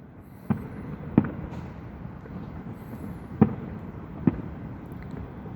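Distant fireworks over a city go off in four separate sharp booms, spaced irregularly over a quiet background hum.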